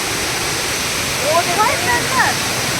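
Tirathgarh waterfall in Bastar pours down in a continuous, loud, hissing roar, while someone speaks briefly over it.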